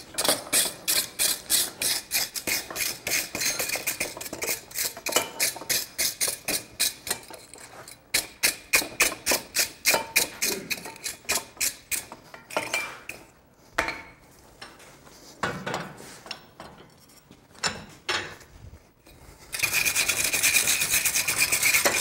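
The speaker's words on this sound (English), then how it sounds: "I leave that alone for grinding." Forged metal pieces from a smithing conference demonstration are ground flat, giving repeated rhythmic rasping strokes that then turn into irregular grinding bursts and a steady continuous grind at the end, close and loud with no talk.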